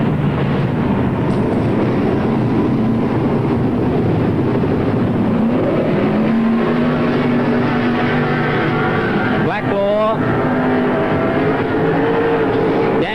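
Sprintcars racing at Newcastle Motordrome, a loud continuous engine roar with rising and falling pitch as cars pass close by, one sweeping pass standing out near the end, no talk.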